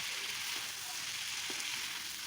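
Oil sizzles and crackles steadily while shrimp fry for a Bengali shrimp dish, a dense, continuous hiss close by with no talk.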